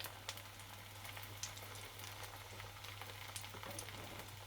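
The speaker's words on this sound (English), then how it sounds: "frying away nicely now." Vegan sausage seasoned with garlic, mixed herbs and liquid smoke fries in a pan, giving a steady, quiet sizzle with scattered small pops and crackles throughout.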